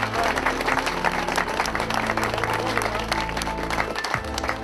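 A crowd applauds steadily throughout at a sports club's 50th anniversary event, a dense wash of clapping hands with some low background rumble and no talking over it.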